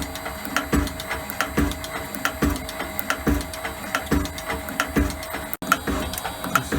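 Elliot 14S lathe taking a one-mil facing cut on the final clean-up pass, giving a steady mechanical whir with a regular clicking, ratchet-like beat at roughly two per second, fairly close and heard without talk.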